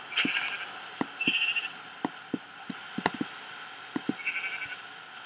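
Sheep bleating in the Minecraft video game, a few short bleats sounding alone over a quiet game backdrop, with scattered clicks and taps in between.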